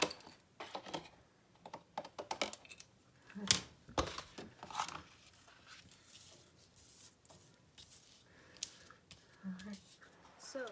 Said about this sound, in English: I'm going to cut off all the tops of my trees.